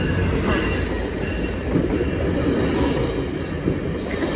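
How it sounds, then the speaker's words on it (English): A double-decker train arriving at a station near Toronto rumbles steadily close by, a dense, continuous roll of wheels and carriages with faint squealing, loud throughout and no talking. "Is this the train?"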